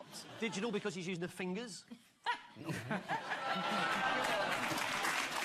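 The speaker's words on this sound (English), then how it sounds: "They're groaning and clapping." Studio audience at a British comedy panel show groans and laughs, then breaks into sustained clapping that fills the last few seconds after a man's spoken question.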